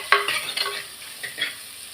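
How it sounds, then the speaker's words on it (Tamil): Onions sautéing in oil in a pan while cooking fish kulambu, with soft sizzling and a few scraping stirs of a spatula, close and moderately loud with no talk. "எண்ணெயிலே வதக்கிக்கிடலாம்."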